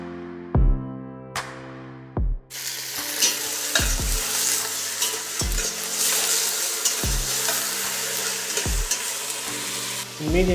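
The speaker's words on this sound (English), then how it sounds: "And fry onion for 5 minutes." Chopped onion frying in a pan over medium heat, a continuous bright sizzle broken by several sharp metallic utensil knocks and scrapes, close and loud.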